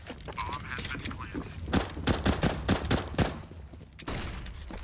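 Desert Eagle pistol fire in a Counter-Strike match on the Cache map, a rapid burst of sharp, loud shots in quick succession mixed with other weapons and background game noise.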